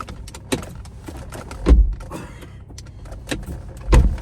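A car door is shut in a parked car, giving a few separate close thuds and clunks with light rattles and handling noises between them and no speech.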